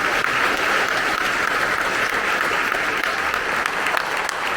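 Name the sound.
concert audience round of applause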